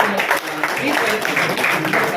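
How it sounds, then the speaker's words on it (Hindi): An audience applauds to welcome a well-known MD doctor onto the stage at a village felicitation event in Bhadra. The dense, steady clapping runs throughout, with an amplified voice talking over it. "जोरदार तालियों के साथ"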